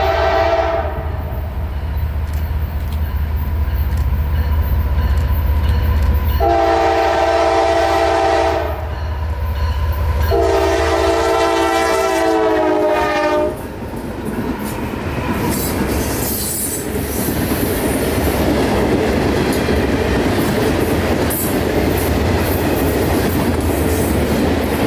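A heavily loaded freight train rolls past near Lakeland, Florida, loud and close, with a sustained rumble, long blasts of the horn, wheel squeal and rhythmic clatter of cars continuing to the end.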